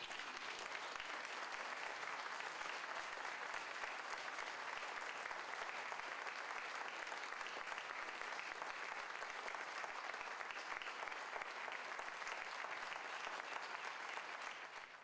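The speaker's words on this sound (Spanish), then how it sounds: "Dale un aplauso al Rey." A church congregation applauds in a long, even roar of clapping that stays constant for about fifteen seconds and tails off briefly at the end, fairly quiet overall.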